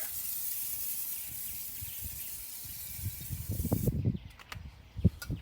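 A steady hissing spray of oil onto grill grates runs for several seconds, then stops, followed by some clanking and handling noises nearby.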